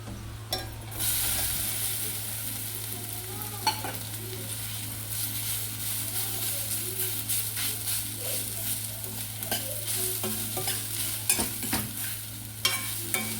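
Close, steady sizzling of semolina frying with grated fresh coconut in a pan, with repeated scraping and stirring strokes, a low hum running underneath throughout.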